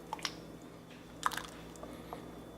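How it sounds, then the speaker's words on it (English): Thick potato leek soup from a slow cooker is poured into a bowl, giving a few soft, close squishy splats and drips over quiet background. "I'm just going to pour some into the bowl."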